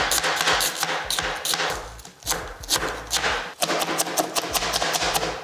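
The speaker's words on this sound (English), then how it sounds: "So I'm just gonna strip this down" A knife finely chops cabbage rapidly and repeatedly against a cutting board, a steady run of crisp thuds with two brief pauses.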